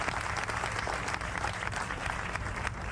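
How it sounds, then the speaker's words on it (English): A baseball crowd at a high school all-star game applauds the West All-Stars, with a continuous dense wash of clapping throughout, fairly loud and unbroken by talk. "One more round of applause for the West All-Stars."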